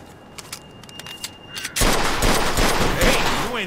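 Rapid gunfire bursts from a shootout in the video game Mafia 2, quiet scattered noises giving way to a loud, sustained fusillade of overlapping shots.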